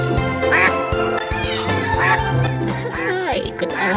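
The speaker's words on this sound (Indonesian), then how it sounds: "Wow, lihat teman-teman. Kita mendapatkan seekor bebek. Wow, bebek putih." A white duck quacks repeatedly in loud, nasal calls, mixed with cartoonish music and a voice in the background.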